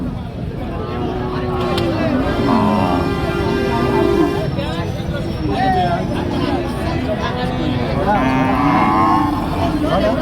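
Cattle at a busy livestock market, including large-framed cows of a crossbred type, moo and low repeatedly over a steady crowd murmur, with people talking nearby.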